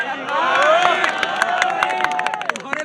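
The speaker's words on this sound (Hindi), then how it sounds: "तुम्हारे लिए तालियां बज रही हैं भाई" Crowd at a live political news broadcast in India clapping and cheering, a loud burst of applause with scattered claps and voices mixed throughout.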